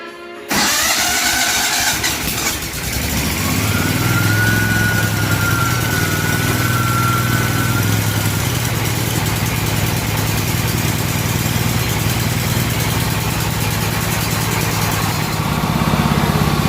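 A Hobart generator engine starts with the choke pulled out, catches almost at once and settles into a steady, loud, continuous idle that runs on close by with no talking.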